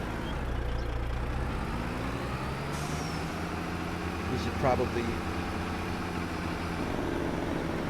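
A truck's Jake engine brake in Farming Simulator 22 rumbles steadily with a low droning engine throughout, swelling briefly midway, while someone talks over it.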